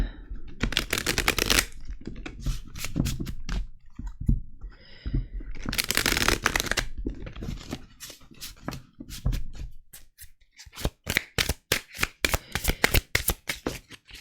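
A tarot deck is shuffled at close range in long riffling bursts, then cards are snapped and laid down one by one in a quick series of crisp clicks.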